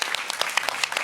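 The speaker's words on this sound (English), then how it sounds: "a big round of applause for Ronnie." Conference audience applause at a food forum's kitchen stage, a brief burst of scattered, moderately loud hand claps.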